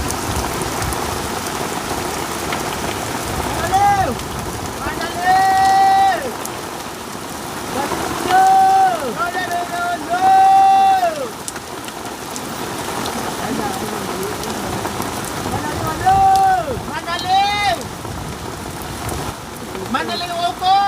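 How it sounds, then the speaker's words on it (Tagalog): Heavy rain drums steadily on a roof during a downpour on a mountain, a dense constant wash with voices talking over it in bursts throughout. "tumatak na talagang ulan. Grabe. Malaki yung ulan."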